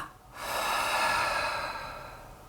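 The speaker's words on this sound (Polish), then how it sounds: "a potem wydech przez usta." One long breath pushed out through the mouth in a Kundalini yoga breathing exercise, a close, airy whoosh lasting about two seconds that swells and then slowly fades.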